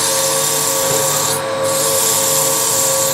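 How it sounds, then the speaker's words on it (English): Steady, continuous rasping of 180 grit sandpaper against a wooden finial turning on a lathe, loud and close with an even, unbroken texture and a brief dip midway. "With 180 grit, if there's a spot that's not quite right, I can actually sand out"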